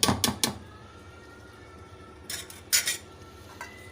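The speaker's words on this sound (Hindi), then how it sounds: "अब हम इसे कवर करके 2 मिनट तक पकाएंगे।" A lid is set onto a pot of simmering chicken masala curry, giving a quick cluster of metallic clatters followed after a pause by another pair of clanks, close and fairly loud.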